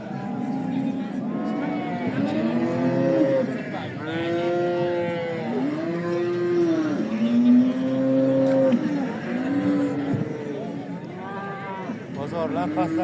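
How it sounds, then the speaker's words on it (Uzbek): Bulls at a livestock market moo again and again, their long, low calls overlapping one another in a steady, fairly loud chorus that runs the whole time. "Novvoslar, qarang, bir dunyo novvos."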